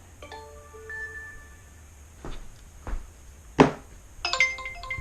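A smartphone delivery app chimes a new-order notification: a bright run of short electronic tones, then soft thumps and a second burst of chiming, all fairly quiet with no talking.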